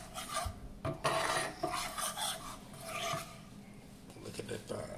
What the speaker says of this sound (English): I'm still stirring it because, you know, this is a cast iron skillet